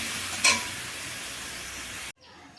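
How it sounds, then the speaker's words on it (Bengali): Fish curry of rita fish bubbles and simmers in a pan on the stove with a steady hiss, interrupted by a brief clink early on before the sound cuts to a quieter tone near the end. "তরকারি অলরেডি ফুটতে শুরু করেছে"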